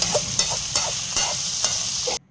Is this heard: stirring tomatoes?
yes